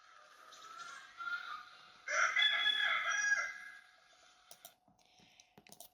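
A rooster crows loudly and close by, one long drawn-out call, followed by a few faint clicks and rustles.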